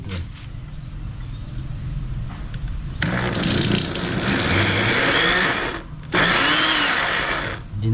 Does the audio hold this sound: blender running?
yes